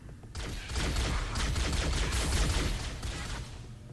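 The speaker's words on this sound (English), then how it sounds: "There's gunfire, but there's absolutely nobody here." Sustained gunfire from Halo: Combat Evolved crackles as a dense, rattling burst of rapid shots. It starts abruptly, stays loud and fairly close for a few seconds, then thins slightly with no voices.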